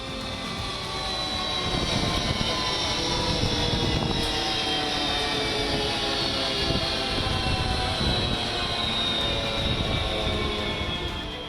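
A Sukhoi 30 MKI fighter jet flying from Tezpur Air Force Station in Assam produces a loud, continuous jet roar that holds steady for over ten seconds, with no voices.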